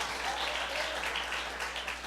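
A church congregation claps along during a worship service, a dense, continuous patter of many hands at moderate volume with no voices over it.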